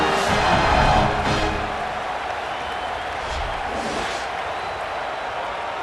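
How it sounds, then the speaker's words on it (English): Home stadium crowd in the EA Sports College Football 27 video game roars loudly at first, then settles into a steady, distant cheering din after a touchdown; a commentator's voice runs underneath. "you always want to get the home crowd jacked up and get them excited"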